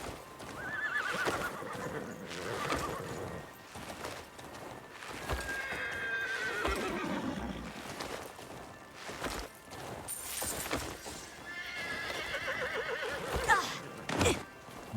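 Horse neighing and whinnying with hooves clip-clopping in a video game, repeated calls spread across the clip over steady hoofbeats and game sounds.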